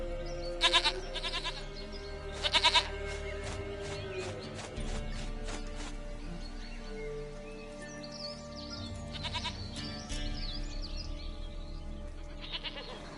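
Goat in The Witcher 3 video game bleating in brief, repeated cries, some loud and near, over a steady ambient game soundscape with scattered clatter and faint thuds.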